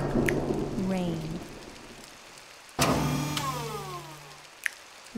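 Steady rain hisses throughout while a loud thunderclap cracks midway and rolls off, with a sharp drip or tap near the end, in a flashcard app.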